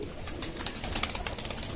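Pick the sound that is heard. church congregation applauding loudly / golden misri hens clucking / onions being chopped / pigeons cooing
pigeons cooing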